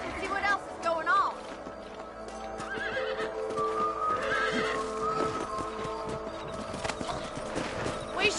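Horses neigh and whinny over steady clip-clop hoofbeats in a video game, with game music and ambient layers underneath and brief talk at moments.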